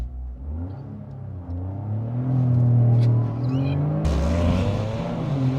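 A 2023 Toyota GR Corolla manual hot hatch revs up and accelerates hard, pitch climbing through the gears, loud and close from inside or beside the car.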